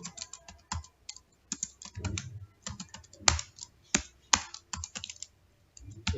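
Typing on a computer keyboard: bursts of quick, crisp key clicks in uneven runs with short pauses, close and clear with no talk.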